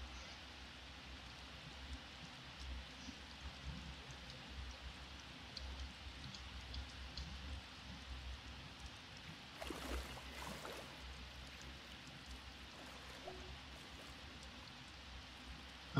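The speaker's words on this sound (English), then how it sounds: "Let's just go ahead and let it rain." Steady in-game rain from The Sims 4 Island Living patters continuously on an island setting, a soft, even hiss with scattered droplet ticks and a brief louder swell midway, with no talking.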